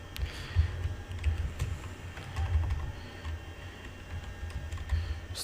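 Keys being typed on a computer keyboard: a steady run of quiet, close clicks with a faint background hum and no voices.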